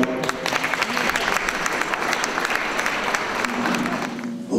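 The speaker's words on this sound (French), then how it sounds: "je vous invite à applaudir Louis" Steady, dense applause from an audience at an art exhibition opening, many hands clapping together fairly close and loud for the whole stretch with no talk over it.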